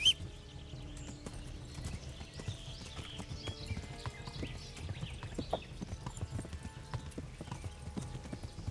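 Horse hooves clip-clop steadily on the ground in the medieval video game Kingdom Come: Deliverance, a continuous rhythmic patter of hoofbeats lasting several seconds with no speech over it.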